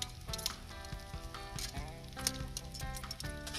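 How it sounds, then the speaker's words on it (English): Bacon sizzles and crackles in a pan at a campout, a faint, busy spatter with other tonal sounds layered over it. "So enjoy the sound of bacon frying."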